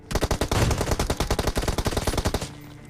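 Rapid automatic gunfire from PUBG Mobile, one close, loud, continuous burst of about twenty evenly spaced shots that stops abruptly.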